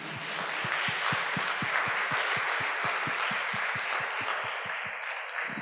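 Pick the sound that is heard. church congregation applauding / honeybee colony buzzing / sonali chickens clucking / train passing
church congregation applauding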